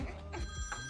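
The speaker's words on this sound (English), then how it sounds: "Whose phone is that?" A telephone rings with a steady electronic tone that pulses in short repeated bursts, fairly faint and close.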